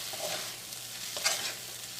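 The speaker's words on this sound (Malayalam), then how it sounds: "ഒന്നുകൂടി ഇളക്കിയിട്ടിട്ട് നമുക്ക് ഒന്നുകൂടി മൂടി വെച്ചിട്ടൊന്ന് വേവിക്കാം." A spoon scrapes and stirs tomato masala for cauliflower curry in a pan, with a soft steady sizzle and a couple of louder scrapes.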